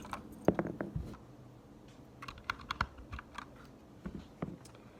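An unlubed Gateron Red mechanical keyboard switch being pressed, quiet irregular clicks and clacks in short bursts, close by and with no talking.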